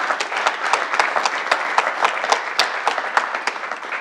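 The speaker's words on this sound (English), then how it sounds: "Give yourselves a big round of applause." Applause from residents and officials at a town State of the Town address in Gilbert, Arizona, a steady dense patter of many hands clapping with sharp individual claps standing out, sustained for four seconds with no talk over it.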